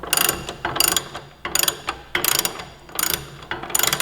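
A hand ratchet tightening the axle nut on a 2018–2023 Kawasaki Ninja 400 during an axle slider install, giving loud close clicking bursts in five or six quick strokes separated by brief pauses.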